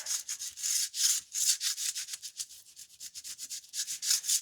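A bottle brush scrubs the window channel of a 1974 Volkswagen Beetle SunBug, giving quick rhythmic back-and-forth rasping strokes, close and fairly quiet, with no talking.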